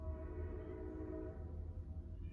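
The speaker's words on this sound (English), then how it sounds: "I live right here by a train track" A train rolls past close to a house, a steady low rumble with sustained horn tones held for a couple of seconds, loud throughout and with no voices.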